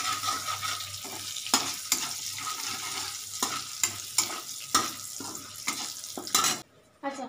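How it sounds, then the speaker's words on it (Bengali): Vegetables for a potato curry are stirred in a hot kadai on a gas stove, with repeated scraping knocks of the spatula over a steady frying sizzle, close and irregularly paced. "এটা একটু নাড়তে থাকবো।"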